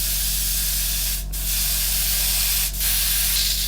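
A Harder and Steenbeck Ultra airbrush spraying at full tilt, a loud, close, continuous airy hiss broken by two very brief dips in flow.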